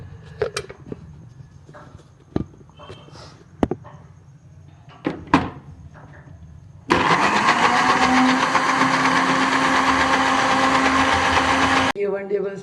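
A blender whirs loud and steady for about five seconds, blending green shawarma sauce with oil and salt, then cuts off abruptly; before it, someone talks over light kitchen clatter.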